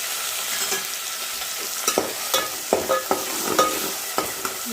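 Tomatoes go into a pan of reddened fried onions, a steady sizzle broken by a series of quick spatula scrapes and knocks as the mix is stirred, close by with no talk.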